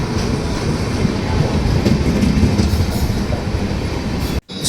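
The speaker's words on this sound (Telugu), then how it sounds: "train number zero seven one eight nine Nanded Tirupati special express జమ్మన్మడు railway స్టేషన్కి అయితే ఎంటర్ అవుతుంది" Nanded–Tirupati special express train entering Jammalamadugu station, a loud, steady rumble with rolling wheel clatter close by, continuous until a brief cutoff near the end.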